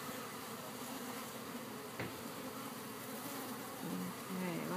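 Constant buzzing of many honeybees being sucked into a bug vacuum, close and steady, with a single sharp tap partway through and a low hum rising near the end.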